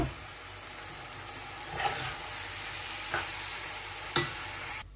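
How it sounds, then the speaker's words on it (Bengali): Rice grains frying in ghee with bay leaf, cardamom and cinnamon for basanti pulao, stirred in a pan; a steady close sizzle broken by a few louder scraping stirs, with no talking. "এখন চালটা সুন্দরভাবে এই যে ভাজা ভাজা করব।"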